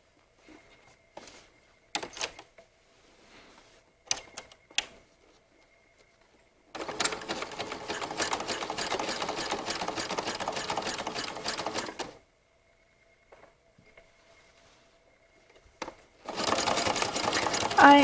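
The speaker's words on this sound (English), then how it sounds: "here we are at the sewing machine." A sewing machine sewing a triple-step zigzag stitch along a folded edge of a sports bra runs in a continuous rapid whir for several seconds, then starts again near the end, with short clicks and taps in the pauses.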